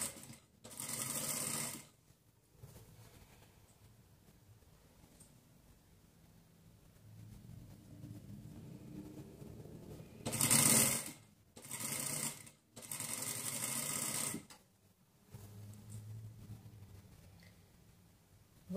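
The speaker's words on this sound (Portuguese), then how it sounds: "Dobradinho e venho passando a costura com um pezinho de máquina." A sewing machine stitches a folded diaper seam with a presser foot, running in several short bursts of steady mechanical whirring with quiet pauses between them, heard close and alone.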